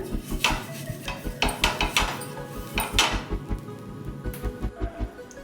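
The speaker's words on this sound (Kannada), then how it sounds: "ಸ್ವಲ್ಪ ಈರುಳ್ಳಿನಲ್ಲಿ ಎಣ್ಣೆ ಮಾಡ್ಕೊಂಡು ಈ ರೀತಿ ಸಲ್ಕೋಬೇಕು" An oiled onion rubbed over a hot tawa before making ragi dosa, giving a run of fairly loud, rhythmic scraping and knocking strokes against the metal pan with no talk.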